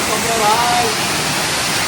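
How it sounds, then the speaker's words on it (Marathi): Steady, loud roar of the main fall of Somtirth waterfall near Ratnagiri, a dense continuous rush of falling water filling the whole clip. "तर मुख्य धबधबा इथे आहे"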